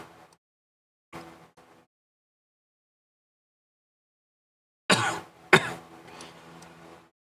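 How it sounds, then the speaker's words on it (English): Two short coughs separated by silence, then a louder burst of harsh coughing and throat clearing close to the microphone. "now I'm coughing"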